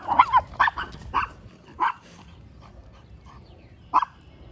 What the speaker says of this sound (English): My dog has found a squirrel to entertain herself.